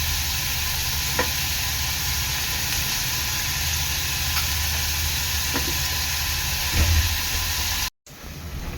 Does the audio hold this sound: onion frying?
yes